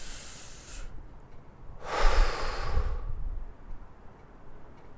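A single big breath exhaled during guided meditation in a church, heard as one soft, close rush of air in the middle and otherwise quiet.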